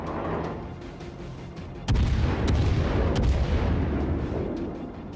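Ship guns in a naval combat game firing a heavy booming salvo, a sudden loud blast followed by rolling rumble and a few sharp cracks that slowly fade, without speech.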